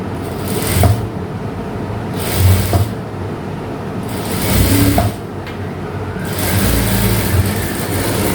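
A sewing machine stitching a school uniform shirt for a 12-year-old girl, a steady whirring hum running in several long bursts with short pauses between them, close and fairly loud.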